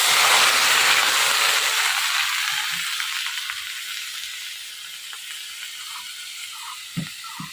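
Spiced water is poured into a pan of fried ginger and green chili masala during Bengali village cooking, setting off a loud hiss that slowly fades into softer bubbling, ending with a light knock.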